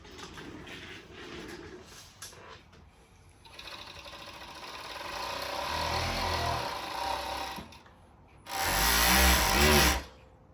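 A JACK E4 direct-drive three-thread rolled hem overlock sewing machine runs steadily, stitching thin fabric, then revs up into a louder, denser burst near the end, heard alone without talk.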